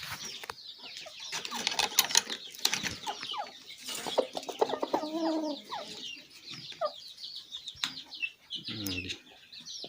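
A Turkish hen and rooster cluck busily at close range, with choppy, repeated calls, some wing flapping and a human voice briefly underneath.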